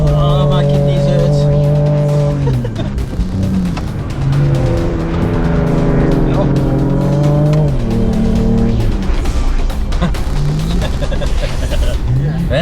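A Ford Ranger Raptor driven hard in the Namib desert, its engine roaring and revving loud and close, with tires squealing in long wavering tones through most of the run.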